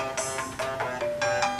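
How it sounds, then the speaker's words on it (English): An incoming phone call's ringtone plays alone, a short repeating electronic melody of bright tonal notes pulsing in quick bursts at a steady moderate level. "I just got a phone call."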